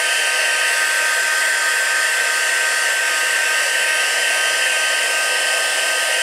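Steady, loud whoosh of a heat tool blowing hot air to dry stamped ink on a papercraft project, running continuously without pause.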